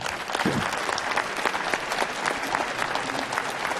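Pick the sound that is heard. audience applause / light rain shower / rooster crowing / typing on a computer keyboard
audience applause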